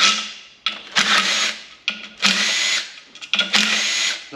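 Power tool buzzes in short bursts while removing 10mm bolts from the cylinder head of a K11 Micra engine during teardown, close and loud with brief pauses between pulls.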